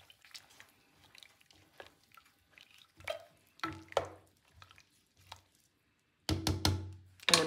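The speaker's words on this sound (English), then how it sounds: "We'll give it a little stir here." Sodium carbonate (soda ash) dye liquid stirred in a pot: soft scattered drips, clinks and swishes, a few louder scrapes mid-way, then a cluster of close, sharper clatters of the spoon against the pot at the end.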